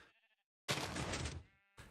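A Minecraft sheep lets out a single loud, drawn-out bleat, close and clear with no talking, after a short faint murmur and a gap of silence, and then a second bleat begins.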